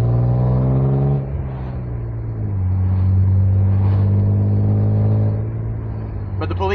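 BMW E36 with a 2.8-liter inline-six and Remus exhaust, idling close up with a deep steady drone that rises briefly in a mild rev before settling back, loud and with no talking.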